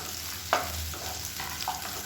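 Shallots sauté in a pan for coconut milk rice, a soft steady sizzle with a sharp stir clatter early and lighter scraping later, close and continuous.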